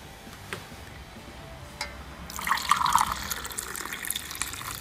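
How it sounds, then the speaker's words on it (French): Sugared water poured into a punch mixture in a home kitchen, a short close splashing trickle that rises briefly and then settles into a soft running flow. "Et puis, vous rajoutez 2 verres d'eau sucrée."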